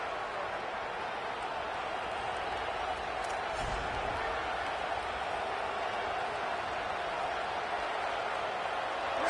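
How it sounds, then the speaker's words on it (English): A packed stadium crowd in the College Football 27 video game roars as one loud, steady wall of noise that fills the whole stretch without letting up. "with this place rocking, the crowd forces a false start"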